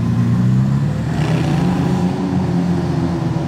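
A red-carbon Ferrari SF90 XX supercar rolls in at Monaco, its deep engine droning loudly and steadily up close.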